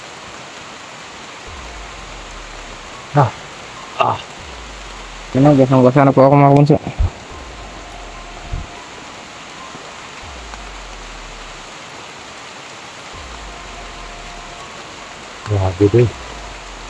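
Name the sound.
heavy rain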